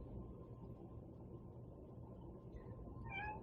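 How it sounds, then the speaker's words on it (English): A cat gives a short, faint meow near the end, rising over a steady low background hum in an indoor room. "Hello, cat."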